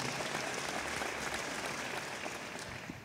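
A church congregation claps together in dense, sustained applause, heard from a moderate distance and easing slightly toward the end.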